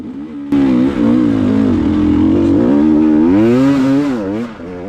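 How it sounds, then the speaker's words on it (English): A dirt motorcycle at a race accelerates hard on the throttle, its engine note rising and falling in a loud, close, continuous wail. "Right there, I channel my inner Ray and get on the throttle, which works out all right."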